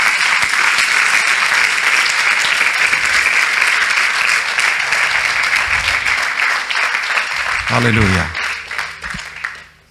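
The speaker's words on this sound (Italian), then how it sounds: "Facciamogli un applauso meraviglioso." A church conference audience breaks into loud, sustained applause filling the hall, with a voice calling out near the end as the clapping fades.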